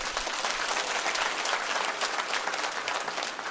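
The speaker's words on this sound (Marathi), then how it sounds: "ह्या टाळ्या गावकऱ्यांसाठी आहेत" A village gathering claps loudly and steadily, a dense, continuous burst of applause from a large crowd with no pauses and no talking over it.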